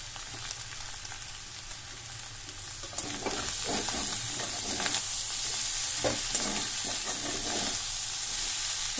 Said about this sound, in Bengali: ডিমটা ভাজা হয়ে যাচ্ছে, এবারে আমি ম্যাগিটা দিয়ে দিলাম, জল ঝরানো ম্যাগি।